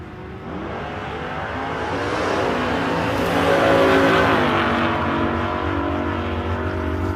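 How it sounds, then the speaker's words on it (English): Two nostalgia drag racing cars, a big two-door Valiant and a Charger, launching side by side off the line at an Australian drag strip, their loud engines roaring and building in a sustained, rising blast with no talk. "Good launch for both cars."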